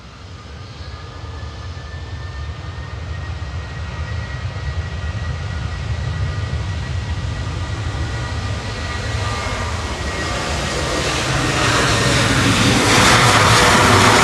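A passenger jet taking off at Manchester Airport, bound for Ibiza, its engines roaring steadily and growing louder over fourteen seconds as a rising whine builds, with no talking.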